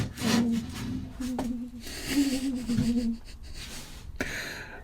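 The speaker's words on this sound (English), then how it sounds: "sanding the bathroom ready for the top coat of white to go on the whole lot" Hand sanding inside a narrowboat bathroom gives a continuous rough rubbing and scraping, with rhythmic strokes and a low droning hum underneath, fairly close and moderately loud.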